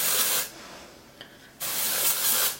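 Two close, loud bursts of dry shampoo spray hiss into lifted hair, separated by a short pause with a faint click between them.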